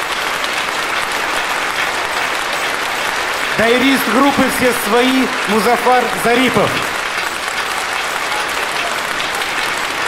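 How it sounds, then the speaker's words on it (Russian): An audience at a concert applauds in a steady wash of clapping that runs throughout, while a voice announces a performer over it. "Ну и ваши аплодисменты, дорогие друзья"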